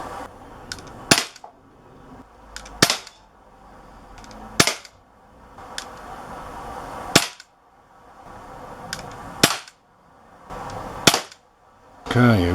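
An Umarex Walther PPQ .177 CO2 pellet pistol fires about seven sharp, loud, isolated shots spaced a second or two apart, each a crisp crack with quick decay, with handling noise between.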